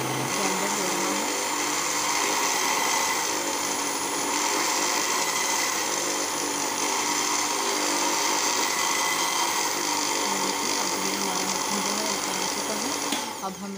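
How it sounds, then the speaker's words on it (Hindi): A high-pitched blender motor whirs continuously and loudly at close range while churning cream into butter, steady throughout, cutting off at the end. "ब्लेंडर हो रहा है।"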